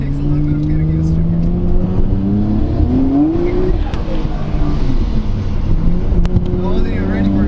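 A Nissan Skyline R32 GT-R pulling hard through first gear, heard from inside the car as a loud engine drone rising in pitch, dropping as the shift comes, then building again, with a voice talking briefly over it.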